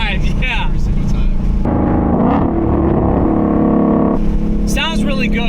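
A stock Shelby GT500 (S550) engine with an aftermarket intake roars and revs loudly up close, rising and falling in pitch through several throttle blips, with a deep rumble throughout.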